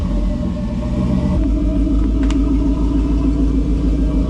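A Trans Am restomod's engine idles with a deep, steady rumble, loud and close, its low throb shifting slightly early on before settling into an even, continuous run.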